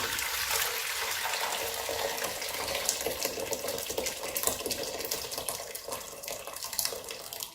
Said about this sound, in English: I decant the water in there.